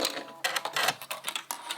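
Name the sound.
sewing machine sewing a straight stitch on a doll skirt hem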